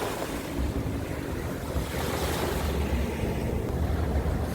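Sea waves wash steadily onto the coast at Rayong, a continuous broadband surf roar with wind buffeting the microphone, heard alone with no talking.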